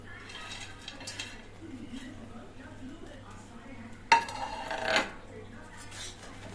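Fried cashews being stirred into food in a pan, with a brief clatter of utensil against pan near the end over a steady low hum and room noise.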